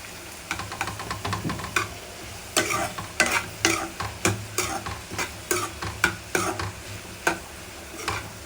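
Onions frying in a pan for paneer butter masala, with a low sizzle beneath repeated sharp scraping and tapping of a spatula stirring, the strokes coming in a fairly regular rhythm close by.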